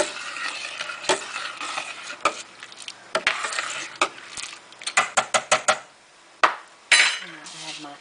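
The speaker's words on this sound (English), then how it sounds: "Give it a little stir." Rice with coconut milk being stirred in a pot, with a spoon scraping and clacking against the pot in a quick run of close taps over a soft sizzle.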